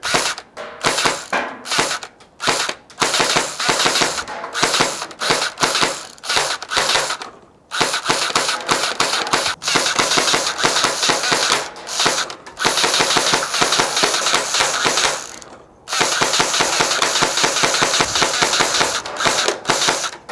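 Nerf GelFire Uproar gel blaster firing rapidly indoors at a target: long stretches of fast, continuous mechanical rattling and snapping, loud and close, broken by a few brief pauses, with no talk.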